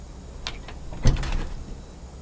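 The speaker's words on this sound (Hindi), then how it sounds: "खोल दरवाजा।" Door swinging open indoors at a home in a crime drama scene, a brief latch click followed by a short scraping, rattling movement at close range, alone without talk.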